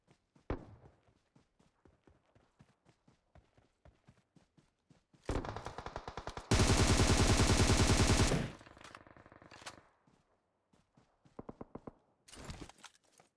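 Sniper rifle fire in PUBG Mobile, Mk14 and AWM, heard as sparse sharp cracks and footsteps, then a dense loud burst of rapid shots with a long roaring stretch, followed by quieter single shots and a final cluster.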